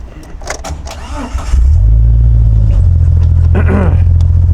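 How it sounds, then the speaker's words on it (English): A Jeep engine cranks and catches at close range, then settles into a loud, steady, droning idle that continues to the end. "So this is like idling noise"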